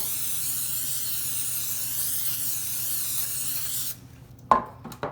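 A steady, close hiss of an aerosol non-stick cooking spray coating a pan runs for about four seconds, then cuts off, followed by a couple of light clinks.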